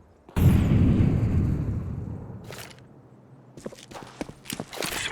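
Incendiary grenade going off in a tactical shooter game: a sudden loud whooshing burst that roars and slowly fades over a few seconds, followed by scattered clicks and light taps.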